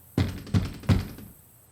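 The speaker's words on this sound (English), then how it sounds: "I banged on it a few times and waited for an answer." Three heavy thumps of a fist banging on a front door, spaced about a third of a second apart, close and solid with a short decay and no voices.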